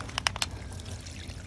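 Excess water pouring and trickling out of the bottom of a potted pansy, a brief faint splash then gentle dribbling, recorded close and quiet.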